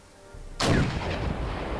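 A Leopard 2A4 tank fires its main gun in a military strategy video game, a single loud, booming blast after a quiet lead-in, followed by a sustained rumbling roar. No one speaks.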